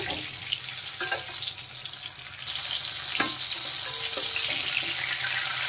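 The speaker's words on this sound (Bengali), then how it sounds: "এদিকে দেখেন আলু আর পটলগুলো ভালোভাবে ভাজা হয়ে গেছে" Potatoes and pointed gourd fry in oil, giving a soft continuous sizzle with occasional clinks and stirring sounds. No one speaks.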